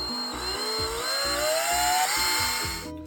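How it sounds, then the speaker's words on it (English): A power drill whirs steadily while countersinking a small hole in an HO scale model swimming pool, its pitch rising slowly over a few seconds before cutting off abruptly at the end. "I drilled just a little bit here just to kind of countersink that hole"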